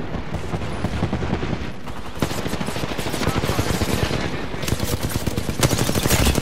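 Video game gunfire from a shooter: rapid, continuous automatic bursts rattling loudly throughout, with sharper cracks near the end, and faint voices underneath.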